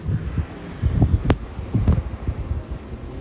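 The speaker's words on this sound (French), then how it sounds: "il y a du vent, c'est plus compliqué." Outdoor wind buffets the microphone with a low, steady rumble and uneven gusts, close and fairly loud, no talking.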